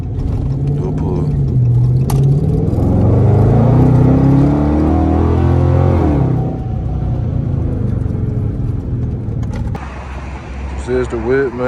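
A Dodge Charger R/T revs and accelerates as it pulls away, its engine rising in pitch and rumbling loudly before easing off, with people talking over and around it.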